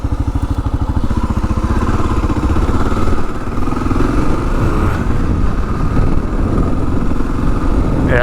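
A 2022 Kawasaki KLR 650 dual sport motorcycle's single-cylinder engine runs close and loud, a steady rapid thumping that shifts in pace as it idles and revs.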